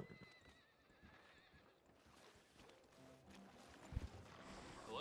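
A horse whinnies and neighs in Red Dead Redemption 2, a clear snorting call over quiet game ambience with soft hoof steps, fairly close and moderately loud.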